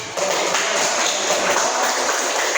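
A classroom audience of students claps together in a dense, even burst of applause that holds steady throughout.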